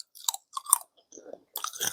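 Crunchy chewing of sugar-coated candied ginger up close, with several crisp bites and crackling chews in short bursts separated by brief pauses.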